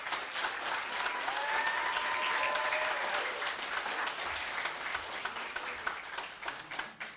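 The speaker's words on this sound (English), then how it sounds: "So let's give them a round of applause." People at a school board meeting applaud honored athletes with sustained, full clapping for several seconds. A faint tonal whine runs beneath it before the applause tapers off.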